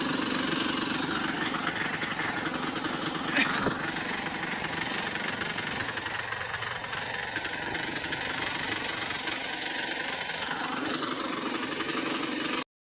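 A tractor engine runs steadily in a cotton field, a loaded tractor driven by Limboni, with a continuous rumbling drone close by that stays even for the whole stretch, with brief faint voices in the background.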